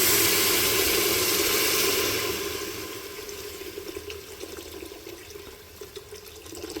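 Water poured from a tap into a pot of lentil stew with fried onion and tomato paste: a loud rushing pour that fades after about two seconds into gentle trickling and bubbling.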